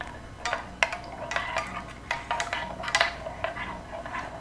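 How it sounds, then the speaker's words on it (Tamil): A spoon stirs sugar into watermelon juice, giving a string of light clinks and scrapes against the vessel at an uneven rhythm, close and clear with no talk. "நான் நல்லா கலக்கி விட்டுக்கு போனேன்."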